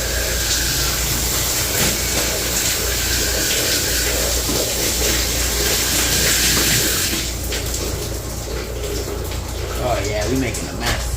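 Hot water running hard from a tap during an HVAC and refrigeration service call, a loud, continuous hissing rush that changes character partway through, with some brief clatter near the end.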